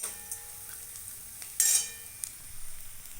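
Spices being roasted and stirred in a pan, with soft sizzling, a sharp scrape of the spoon against the metal and a few light clinks, all fairly close and without talk.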